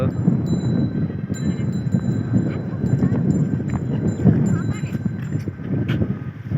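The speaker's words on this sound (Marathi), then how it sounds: "आता चालवते आहे बैल" A bullock being walked in a soybean field, its hooves plodding in a steady, dense rhythm with faint bell dings, all under continuous close talk.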